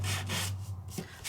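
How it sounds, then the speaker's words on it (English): Sandpaper rubs across embossed paper in several short back-and-forth strokes, a close, steady rasping scrape with brief pauses between passes. "when you add a little bit of sandpaper"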